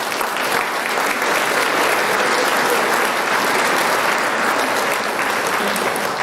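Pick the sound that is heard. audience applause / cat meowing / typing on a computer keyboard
audience applause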